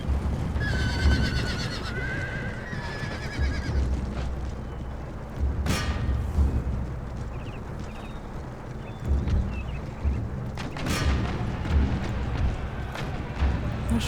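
Cavalry horses in Empire Total War whinny and neigh several times over clopping hooves, distant booms and battle rumble, in a continuous, busy soundscape.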